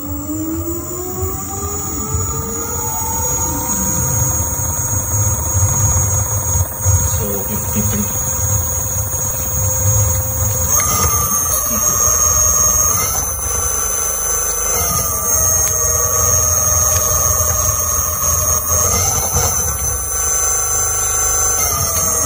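A Zero 10X electric scooter motor spinning on a test bench from a 13S battery, giving a loud whining hum whose pitch holds, steps up and shifts several times, with no voices.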